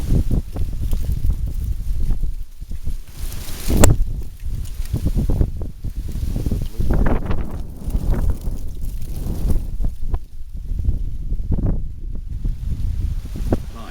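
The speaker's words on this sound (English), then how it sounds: "The wind's picked up pretty good. Straight through that tunnel." Wind gusts roar through a railroad tunnel, a continuous buffeting rush with rising and falling surges and a sharp bang partway through.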